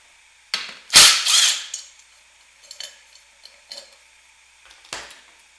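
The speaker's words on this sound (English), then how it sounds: "Looks like I need a deep socket for that one. This is a 13 millimeter." A 13 millimeter deep socket wrench clatters and clicks against a bolt on a Briggs and Stratton lawnmower engine, opening with a loud metallic rattle followed by a few scattered ratchet ticks, close with no speech.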